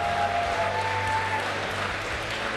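A crowd at a Granblue Fantasy Versus fighting game tournament applauds in a dense, steady wash of clapping that runs for the whole stretch.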